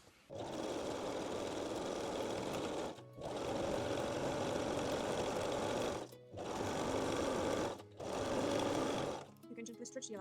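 A sewing machine runs a 3-step zigzag stitch joining bralette layers, sewing in four long steady bursts separated by brief pauses, loud and close.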